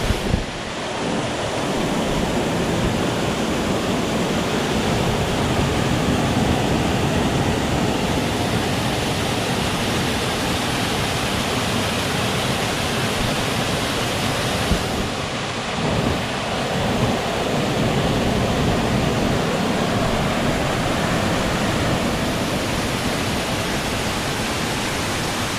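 A waterfall in the middle of farmland pours with a dense, steady rushing roar, loud and close, continuing unbroken throughout with slight shifts in intensity and some wind buffeting.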